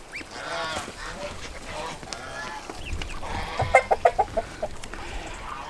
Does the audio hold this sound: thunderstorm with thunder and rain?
no